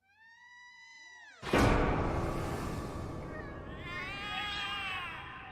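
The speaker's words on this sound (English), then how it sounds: "Something is wrong, Mitzi. The cats are alarming." Cats in the video game The Cat Lady meow in a drawn-out, rising and falling wail, then a sudden loud burst of harsh noise cuts in as more layered cat cries continue underneath.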